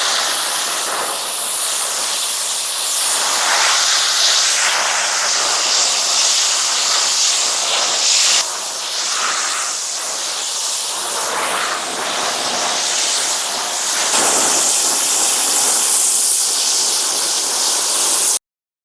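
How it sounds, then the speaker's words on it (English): A pressure washer sprays a car at close range during bug-splatter cleaning, producing a loud, steady hissing rush that wavers slightly as the nozzle moves, with no voices. "Let's get the pressure washer."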